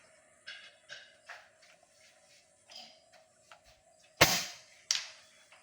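A rifle shot aimed at a 1-inch steel plate 100 meters downrange cracks out sharply once, followed by a second fainter report, after quiet shuffling and small handling noises.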